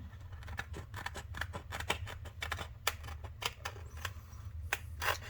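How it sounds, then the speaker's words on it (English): Scissors snip through protective film during a customer's Casio G-Shock GWX-5600B modification, a quick run of small crisp clicks and cuts over a low steady hum, close and fairly quiet with no talking. "we're going to take some scissors and cut this film out"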